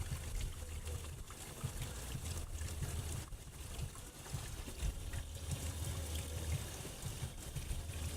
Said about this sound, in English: Let the water run for a while.